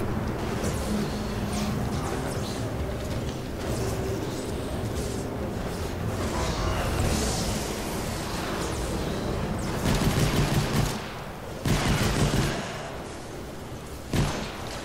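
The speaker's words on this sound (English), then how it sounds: "I almost shot Darth Vader, everyone." Gunfire in the Fortnite video game, with dense, continuous rattling bursts and a few louder shots near the end, heard without talk.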